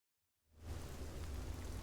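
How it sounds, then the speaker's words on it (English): Rain falls in the horror video game Ironbark Lookout, starting abruptly after a brief silence and settling into a steady, faint, broadband hiss with low rumble. "Oh, it's raining."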